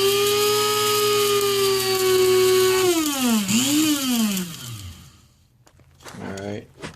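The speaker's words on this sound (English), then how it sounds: "And this thing grinds it up pretty fine." A small electric grinder powders raw stevia with a loud, steady, high-pitched whine that dips and wavers as the load changes, then spins down and stops, followed by a brief renewed burst.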